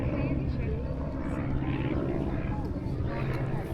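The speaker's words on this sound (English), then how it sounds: "and a plane." A propeller airplane drones steadily overhead at a hilltop medieval castle ruin, a continuous engine hum that stays level throughout, with a voice talking over it.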